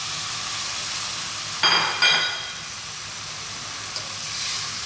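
Cooked green beans drop into a hot pan of coconut curry with two sharp bursts of sizzle over a constant loud hiss of frying.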